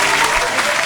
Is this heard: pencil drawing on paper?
no